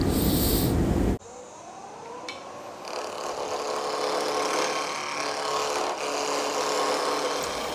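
A Shopsmith machine running as a lathe at 990 rpm turns a 2-inch piece of pine: a loud burst cuts off abruptly, then a steady motor drone and rumble continue up close.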